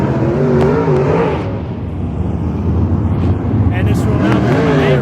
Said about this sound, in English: Hot laps rolling out on the track right now.